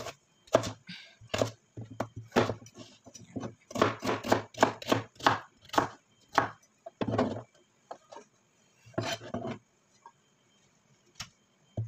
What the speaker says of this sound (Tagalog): Then, yung carrots, kakat din natin siya ng cubes.